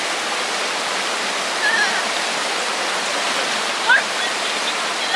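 A waterfall roars as a dense, steady hiss of rushing water fills the whole stretch, with a few faint high chirps barely audible above it.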